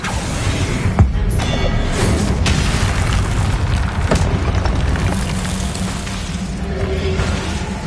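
Confringo explosive spell in Hogwarts Legacy: a loud, dense blast rumble fills the whole stretch, with sharp bursts near the start and in the middle, then a fading roar.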